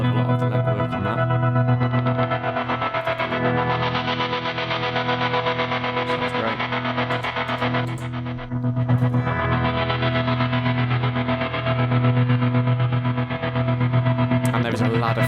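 Guitar runs through a Meris LVX delay pedal preset with drive, a ladder filter and ring modulation, producing a dense, distorted, continuously sustained wash with metallic overtones, loud and unbroken apart from a brief dip midway.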